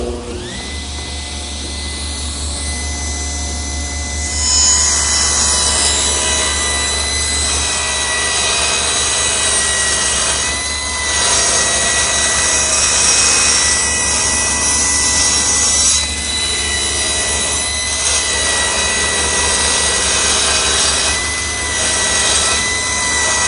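A table saw rips a 10-degree bevel cut along wood for a butcher block project. A loud, sustained whine with a low hum runs throughout, rising as the blade bites into the board.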